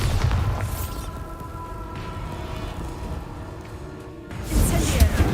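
A Bombarda blasting spell goes off in a Harry Potter video game, a deep booming rumble that swells at the start, holds as a sustained low roar, then erupts again into a louder burst near the end.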